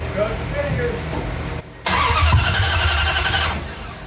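A 318 small-block V8 in a 1977 Dodge D100 truck cranks, cuts out briefly, then catches and runs with a rough, loud idle, a voice audible near the start.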